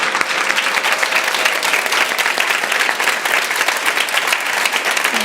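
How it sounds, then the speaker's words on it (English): An audience at a book talk and signing breaks into a full round of applause, loud and dense clapping that carries on steadily throughout with no talk over it. "Let's give Alexis an amazing round of applause"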